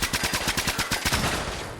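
Rapid automatic gunfire from a gangster-style gun in Fallout 4, a fast even burst of about a dozen close, loud shots that trails off near the end, with no voices.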